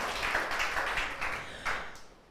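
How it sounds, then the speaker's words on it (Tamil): A church congregation at a Sunday service claps hands together in a short burst of applause lasting about two seconds, moderately faint and fading toward the end, with no talking over it. "உங்களுக்கு நீல ஒரு கைத்தட்டு விடுங்க, உட்காருங்க."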